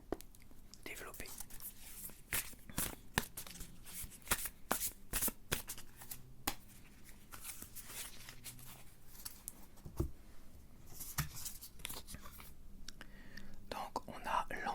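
Tarot cards being shuffled for a cartomancy reading, producing close, soft riffling and flicking bursts in irregular clusters with quiet whispering in between.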